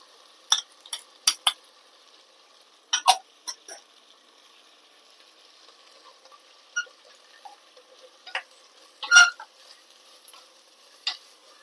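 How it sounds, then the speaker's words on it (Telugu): Yogurt is added to a pot of vegetable pulao and stirred in with a metal spoon, giving sharp scraping clinks against the pot in short irregular bursts, with a faint sizzle between them. "ఇది ఒక పెరుగు కూడా వేసేస్తున్నాను"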